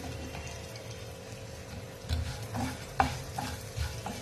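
Coriander seeds, cumin and fenugreek frying in oil give a quiet, steady sizzle, with a few scrapes and clinks of stirring against the pan in the second half.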